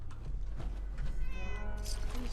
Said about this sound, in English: Oh, you're a good kitten.